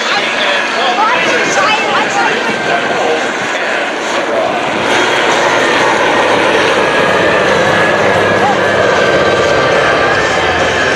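A Canadian military demonstration aircraft, Stinger 05, flies at the 2018 Abbotsford Airshow, its loud steady engine roar and whine filling the air while an announcer talks over it.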